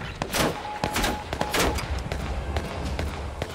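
Rapid gunfire in the online battle-royale game H1Z1, a string of sharp, loud shots and thuds firing in irregular bursts across the whole stretch.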